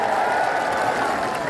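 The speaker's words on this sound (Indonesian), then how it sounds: "tepuk tangan buat semua yang di sini" Applause and crowd noise at an outdoor campaign rally in Ciamis, Indonesia: a steady wash of clapping and cheering from a large audience, continuous through the moment.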